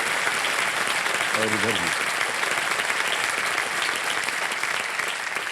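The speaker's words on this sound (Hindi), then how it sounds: "तालियां बज जाए इनके लिए" Studio audience applause on the KBC game show set fills the room as a loud, steady roar of clapping throughout, with someone briefly speaking over it.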